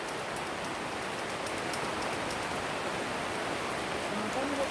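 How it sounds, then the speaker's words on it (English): Heavy rain drums on a polytunnel in a dense, constant patter, close and fairly quiet, with occasional sharper drops standing out. "Can you hear how much it's raining?"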